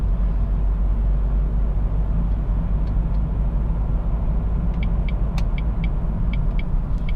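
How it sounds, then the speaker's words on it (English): Jaguar X-Type 2.0 diesel saloon cruising in fourth gear at about 30 mph, a steady low engine drone and road rumble heard from inside the cabin, with a few faint ticking clicks near the end. "I'm in fourth gear now at 30 miles an hour, and the engine's not fluffing or struggling or, you know, protesting in any way at all."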